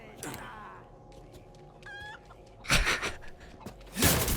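A rooster in the Resident Evil 4 Remake video game clucks in short bursts, then gives a loud crow amid game noise and brief thuds, with no talking.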